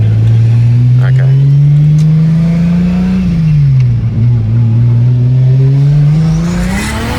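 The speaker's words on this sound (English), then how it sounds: "That just fried the tires off" A tuned car on high boost accelerates hard and spins its tires, a loud, close, sustained engine roar that rises, dips briefly and climbs again, with voices talking over it.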